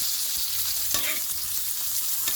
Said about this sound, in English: keep basting the steak so that it doesn't dry out